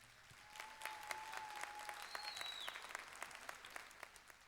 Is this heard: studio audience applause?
yes